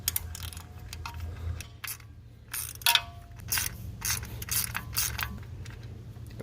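A ratchet loosens car spark plugs during a plug change on an engine with a misfire, giving repeated quick clicking bursts over a low steady hum, close and fairly loud.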